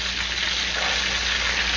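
Steaks frying in grease make a short, constant, fairly loud sizzle with no talking.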